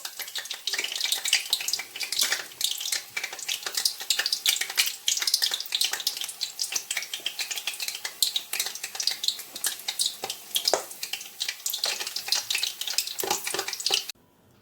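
Onions frying in hot oil for coconut puff puff, a busy crackling sizzle that runs steadily close up, then stops abruptly near the end.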